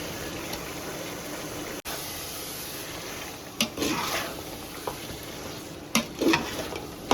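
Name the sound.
chicken sautéing with onion and tomato for biryani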